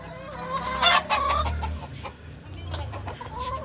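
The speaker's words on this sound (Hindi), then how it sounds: "बीच में ही मुर्गे हैं" Chickens cluck in a house courtyard, with a rooster among them, close and fairly loud, giving a string of short clucks and calls.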